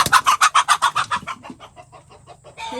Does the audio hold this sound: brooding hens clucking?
yes